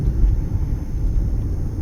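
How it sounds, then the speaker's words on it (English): Steady low road rumble from inside a moving car on a Las Vegas street away from the Strip, with cars turning left ahead; a continuous engine and tyre drone, fairly loud and even, with no talk. "Cars turning left in front of us."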